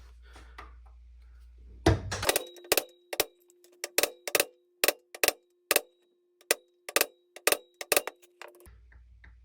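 A center punch is struck with a hammer onto the rivet of loose needle-nose pliers, giving a series of loud, sharp metallic clangs at an uneven pace, close up with no talking.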